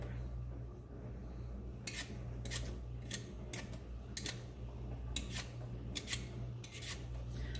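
A knife trims a sweet potato on a cutting board, making a close series of short scraping, rasping strokes at an uneven pace over a steady low hum, with no talking.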